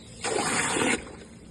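Steady rush of water flowing through a DIY compost extractor, a close, even gush lasting under a second before cutting off.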